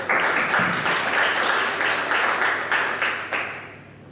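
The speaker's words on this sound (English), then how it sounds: "Great, give a round of applause." A seminar audience claps in a round of applause, with bursts of clapping that swell and fade in waves before tapering off near the end.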